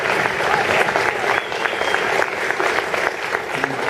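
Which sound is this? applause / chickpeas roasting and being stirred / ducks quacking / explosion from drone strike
applause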